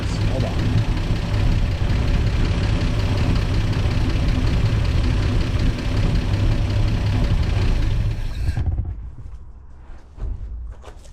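A worn, tired 125 motor runs steadily at idle with a loud, close, rough low rumble for several seconds, then is shut off and dies away to quiet.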